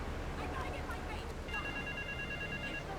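A payphone rings in Grand Theft Auto 3 (Definitive Edition), a repeated electronic ring over the second half, sitting under steady game music and ambient noise while a voice talks.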